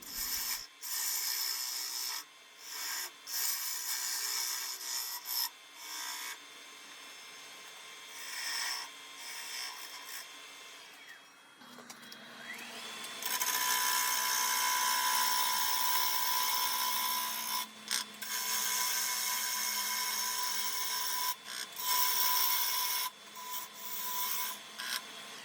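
A gouge cuts a tenon on a wooden bowl spinning on a lathe, a close, steady rasping scrape that swells and fades in long passes with short gaps between them, and no voices.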